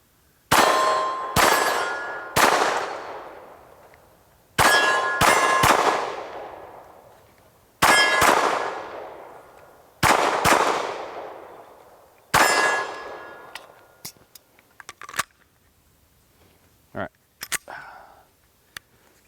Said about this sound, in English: I'm gonna go ahead and run through a couple magazines here and just see how it shoots.